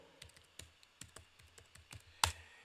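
Quiet, irregular keystrokes click on a computer keyboard, with one sharper, louder tap near the end.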